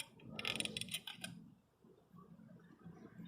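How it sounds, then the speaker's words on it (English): A star knob being unscrewed on a rudder mount for an inflatable dinghy, a short burst of close ratcheting clicks followed by faint handling rustles. "Unscrew the top eye from the star knob."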